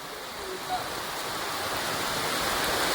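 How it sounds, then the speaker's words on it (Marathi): Heavy evening rain falls steadily over a Konkan village, a dense, even hiss of downpour with a faint voice briefly beneath it. "तर आता कुठे बघावा पाऊस लागतोय मजबूत"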